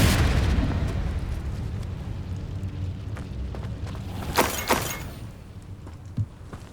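Confringo spell blasts in Hogwarts Legacy, a game fight with a dense roar of combat noise, followed by two sharp bursting booms near the middle and a smaller thud toward the end.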